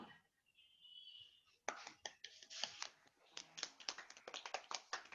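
Children in a classroom, having just sung together, clap their hands in a quick, scattered burst of many small claps after a soft whispery start, fairly faint and unsynchronized.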